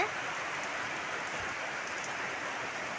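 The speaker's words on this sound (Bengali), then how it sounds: "দেখুন কিভাবে বৃষ্টি শুরু হয়েছে" Heavy monsoon rain pours down in an unbroken, dense wash of hiss with no gaps, fairly soft in level and steady across the whole moment.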